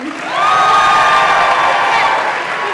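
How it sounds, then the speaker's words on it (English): Audience at an Ignite Seattle talk event clapping and cheering, with whoops and raised voices layered over the applause, loud and sustained before tapering slightly near the end. "Clap if you're a cat person."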